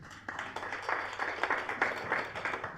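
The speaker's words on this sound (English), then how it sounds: "So I think we should clap for the mayor title holders in Ondo." Audience clapping at a community gathering on Nigerian mining in Ondo, a steady burst of many hands applauding together at moderate loudness for about three seconds, with no speech over it.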